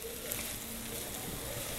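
Garlic frying in a pan while browning for collard greens with eggs, a soft, steady sizzle that stays faint and even throughout with no talking.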